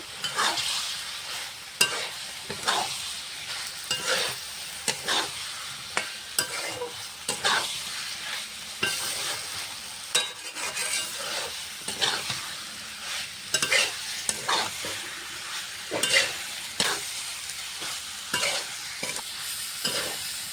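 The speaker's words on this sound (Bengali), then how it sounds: "ভেজে রাখা পটল আর আলুটা দিয়ে দেবো। পটল আলুর সঙ্গে কিছুক্ষণ কষিয়ে নেব।" Pointed gourd and potato pieces fry with spice paste in oil for a vegetable curry, a continuous sizzle punctuated by frequent scraping stirs against the pan, close and clear with no talking.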